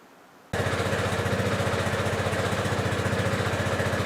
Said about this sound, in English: It's been a while since I've had the four-wheeler running, so it'd be good to get it started.